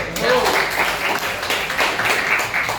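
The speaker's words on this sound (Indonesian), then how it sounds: "Tepuk tangan buat Jay." Steady crowd applause, a dense wash of many hands clapping at once, continuous and fairly loud throughout with no pauses.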